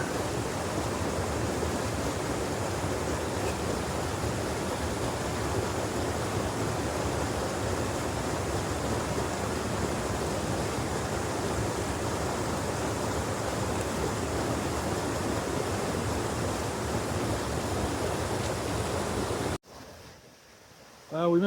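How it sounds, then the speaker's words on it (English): A waterfall on a hiking trail pours with a steady, loud, broadband rush of falling water, constant and unbroken for about twenty seconds before cutting abruptly near the end. "we ended up at a waterfall instead"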